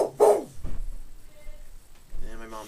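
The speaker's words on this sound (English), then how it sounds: "I'm sorry, that was my dog." A dog barks a few times in the background, a short burst near the start followed by quieter yelps, with a person talking close by over the top.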